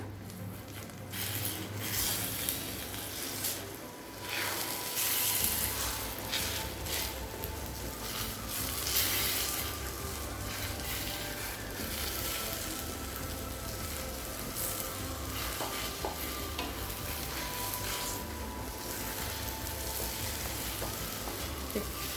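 Beaten eggs stir-frying in a pan for a Tamil egg poriyal, a soft continuous sizzle with gentle scraping as the mixture is slowly stirred, steady and fairly quiet, no talk.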